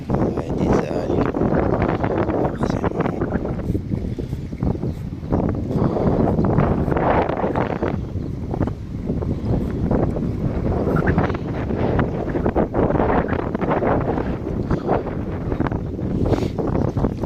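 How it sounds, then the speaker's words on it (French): Strong wind buffets the microphone on a fishing boat out on the water. The roar is loud and continuous, with gusty surges throughout and no clear speech. "On est un peu face au vent, c'est un peu compliqué."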